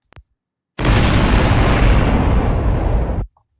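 An explosion sound effect booms in as a loud, close, sustained roar that rumbles steadily for about two and a half seconds, then cuts off, with no voices over it.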